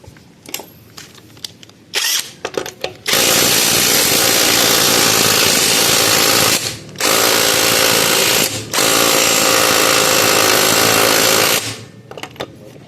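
An impact wrench hammers in long loud rattling bursts during car brake shoe servicing, stopping briefly twice between runs, close and harsh.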